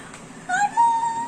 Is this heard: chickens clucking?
no